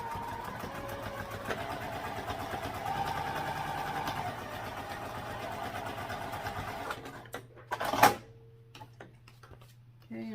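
Sewing machine basting a fabric flap onto a sling bag, a quiet close mechanical whir with rapid stitching ticks for several seconds, then it stops with a sharp clunk and a softer hum.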